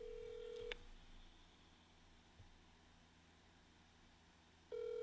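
A phone call rings back through the handset as a faint, steady ringback tone, one ring at the start and another after about four seconds of quiet line hiss.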